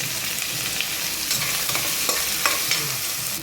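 Onions and curry leaves sauté in a hot pan with steady, close sizzling and occasional scraping stirs.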